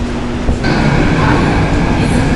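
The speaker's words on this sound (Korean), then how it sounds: "지하철이 들어왔습니다." A Seoul subway Line 2 train pulls into the station with a loud, steady rumble of wheels and motors that swells as it arrives, with no voices over it.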